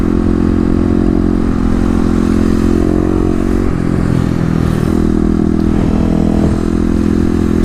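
A Kawasaki KLX250 dual sport motorcycle rolling over speed bumps in a mall parking area, a loud close engine drone with rattling clatter and scraping as the bike bounces, the engine note dipping and rising as it crosses.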